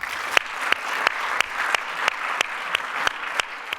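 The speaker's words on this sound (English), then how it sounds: "let me ask you to give a round of applause to our" A conference audience applauds panelists at an FX market structure event, a steady wash of many hands clapping indoors, with sharper individual claps popping out at regular intervals.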